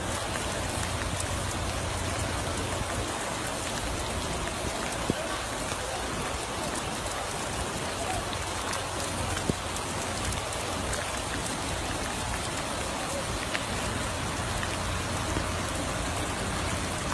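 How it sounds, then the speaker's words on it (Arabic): Heavy rain pours steadily over the Kaaba and the surrounding sanctuary in Mecca, a dense continuous hiss of drops hitting surfaces, loud and unbroken throughout, with faint voices in the background. "أمطار غزيرة جدا جدا."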